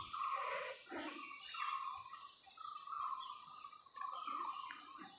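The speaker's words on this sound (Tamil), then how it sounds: "இந்த குருவிகளோட சவுண்டுக்கு எப்படி கேட்குதுங்க பாருங்கள், ரொம்ப சூப்பராக இருக்கும்." Sparrows chirp in a deep forest, with a string of repeated bird calls and twittering phrases ringing out clearly and fairly close, one after another with short pauses, over an otherwise quiet background.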